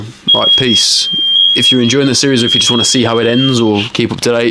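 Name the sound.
fire alarm beeping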